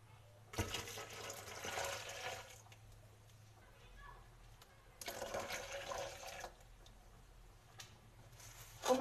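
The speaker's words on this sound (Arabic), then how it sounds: "هنايا غادي نضيف الماء." Water poured into blended apple-banana juice with lemon peel, making two gushing pours, each lasting about two seconds, separated by a quiet pause, close and soft.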